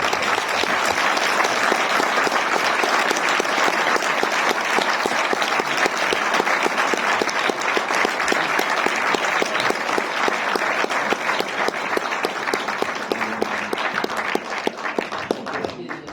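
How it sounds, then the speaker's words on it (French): A theatre audience at a film Q&A bursts into loud, sustained applause, dense rapid clapping from many hands continuing unbroken for a long stretch before gradually thinning toward the end. "je vais vous demander d'applaudir très très fort Colline Defaux et Mathilde Bourbin"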